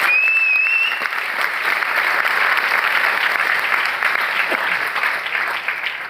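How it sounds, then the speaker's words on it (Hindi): Loud, sustained applause from a large audience at an MI Lifestyle stage event in India, steady dense clapping filling the whole stretch without a break. "तो मेरे पूरे ग्रुप के लिए जोरदार ताली होनी चाहिए।"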